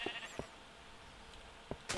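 Sheep in the Minecraft video game, in a world with a sheep mod, give short, quiet bleats scattered against a near-silent background.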